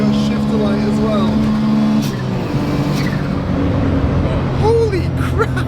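A car engine drones under talk with rising and falling harmonic sweeps as it revs toward a redline just past 9,000 RPM, steady and close throughout.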